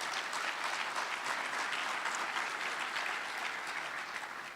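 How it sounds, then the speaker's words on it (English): A conference audience claps for the ministers at a closing session, a steady, dense round of applause from a large crowd that tapers off slightly at the end. "let's give them a round of applause"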